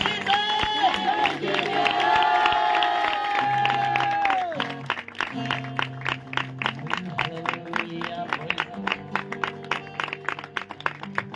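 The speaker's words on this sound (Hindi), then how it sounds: "खुदावंद यीशु के जोरदार तालियों के साथ।" A church congregation claps together, first under sustained music and voices, then in steady rhythmic claps that continue to the end.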